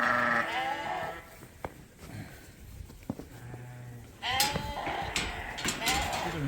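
Sheep in a pen on a farm bleat repeatedly, several overlapping calls near and fairly loud, with quieter stretches and small knocks between them.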